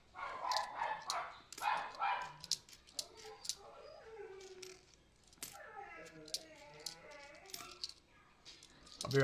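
A dog barks in short bursts near the start, then a person talks over quieter background noise for the rest.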